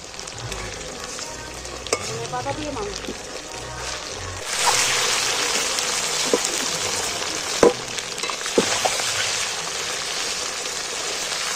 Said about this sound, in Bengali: উল্টে ভেজে নিচ্ছি মাংসটা।